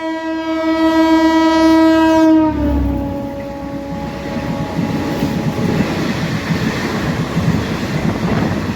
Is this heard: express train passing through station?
yes